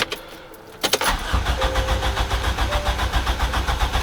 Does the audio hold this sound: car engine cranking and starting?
yes